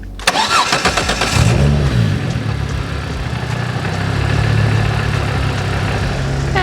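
A Miata-based Exocet kit car running a standalone engine management system cranks briefly and fires up, then settles into a loud, steady idle close to the microphone.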